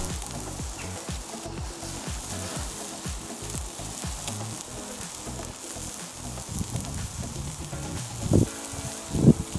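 Marinated food sears and chars on a hot grill, a continuous close sizzle with crackling texture and a couple of louder pops near the end.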